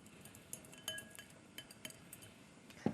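Potatoes go into a pot of doenjang stew with clams, bringing light clinks and taps of utensils against cookware and a sharper knock near the end, close and otherwise quiet.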